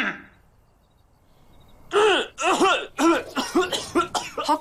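After a near-silent pause, a man in a Korean period drama lets out a string of dry coughs and throat-clearing, about half a dozen close, loud bursts in quick succession.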